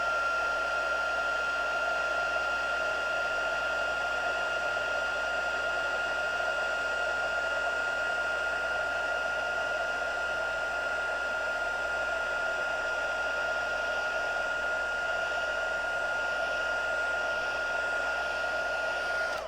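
A heat embossing tool blows hot air in a constant, even whir with a high whine, running alone and unbroken for the whole stretch at a close, moderate level while holiday card prep goes on.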